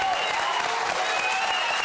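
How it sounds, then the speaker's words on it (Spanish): Applause from an audience at a Chilean televised debate between student union leaders, a continuous even wash of clapping throughout, moderately loud with no voices standing out. "Aplaude."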